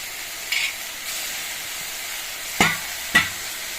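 Washed chicken, about half a kilo, goes into a hot pan for a chukka kura chicken curry and sizzles in a steady hiss, broken by two sharp splashing bursts near the end as more pieces drop in.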